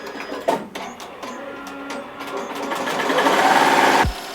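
A Melco EMT16X embroidery machine stitches a monogram onto terry cloth towel with a Groz-Beckert needle, a rapid mechanical chatter that builds steadily louder, with a few clicks early on before it stops abruptly near the end.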